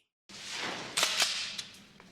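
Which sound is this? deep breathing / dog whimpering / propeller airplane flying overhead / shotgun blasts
shotgun blasts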